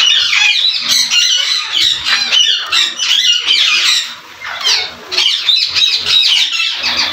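Loud, harsh squawks from a large macaw, repeated in rapid bursts with short gaps, close by, with some flapping and rustling.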